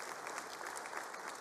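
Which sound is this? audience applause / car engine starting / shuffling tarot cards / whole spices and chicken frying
audience applause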